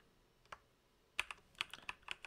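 Code is typed on a computer keyboard, starting with a few isolated key taps before a quicker irregular run of close, crisp clicks in a quiet room.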